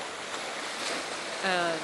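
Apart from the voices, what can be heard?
ocean waves at Rockport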